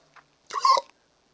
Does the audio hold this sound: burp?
yes